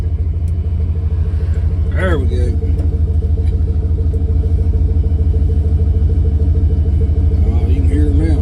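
A Studebaker car with a swapped LS V8 engine idles with a deep, steady rumble heard from inside the car while driving, and someone speaks briefly over the constant low drone.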